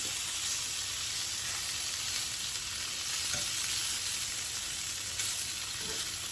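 Thin-cut, delicate liver frying fast in a skillet, a loud dense sizzle that holds steady and continuous throughout, with faint stirring texture and no talking.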